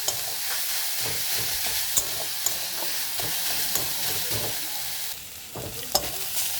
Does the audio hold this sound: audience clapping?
no